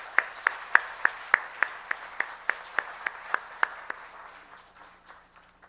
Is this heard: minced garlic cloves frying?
no